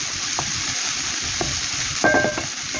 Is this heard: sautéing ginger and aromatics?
yes